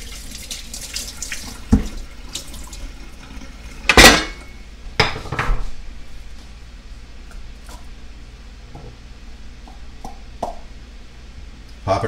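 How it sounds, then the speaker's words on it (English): An old can is rinsed under a kitchen tap, with running water, a few sharp metallic clanks and splashes close by, and a voice speaking between the sounds. "I'm going to go ahead and rinse it out."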